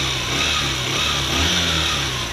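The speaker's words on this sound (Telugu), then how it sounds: "సార్, ఒకసారి వెహికల్ స్టార్ట్ చేయండి." A Honda Shine or Platina motorcycle with over 50,000 km runs steadily, its engine humming loud and close without pause.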